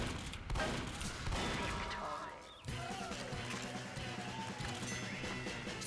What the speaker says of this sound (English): I'm using a shotgun and a rocket launcher.